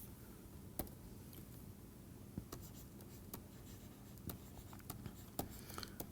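Chalk or marker tapping and scratching on a board during a lecture, faint and quiet, with sporadic sharp ticks from strokes spread across the moment and no talk.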